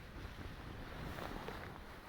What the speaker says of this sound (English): The wind's blowing this side of the Lanshan right down